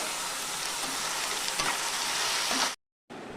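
Brinjal, onion and green chilli with turmeric and ginger fry in hot oil, giving a steady, close hiss of sizzling that runs continuously before a sudden brief cut and then resumes.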